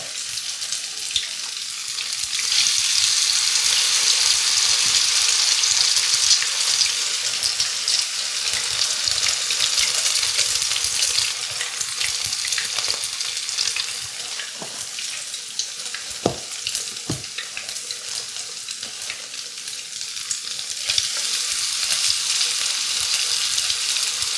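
Spoonfuls of grated potato latkes fry in a pan with a constant hissing sizzle, broad and fairly loud, with occasional small pops and clicks near the middle; no speech.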